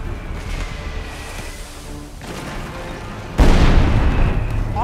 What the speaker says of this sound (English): Take cover! Enemy artillery!